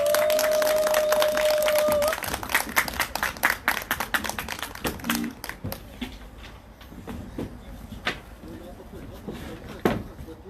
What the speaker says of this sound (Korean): 다시 한 번 더 우리 좋은 말씀과 좋은 노래를 들려주신 황성재님께 큰 박수 부탁드리겠습니다